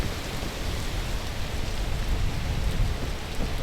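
Steady rain in the climbing video game Peak, a continuous broadband hiss with dense patter that holds at an even, fairly loud level from start to finish, with no voices over it.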